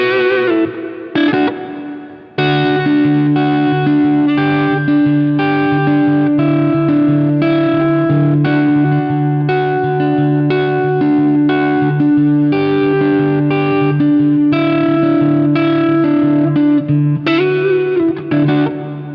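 A loud distorted electric guitar with chorus and echo plays a flowing lead lick of slides and sustained notes, continuous and alone for most of its length.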